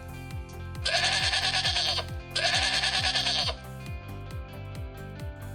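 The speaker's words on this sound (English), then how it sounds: "Let's learn about another animal. It is sheep." Two long, loud sheep bleats follow one after another over a steady rhythmic background pulse, with no talking.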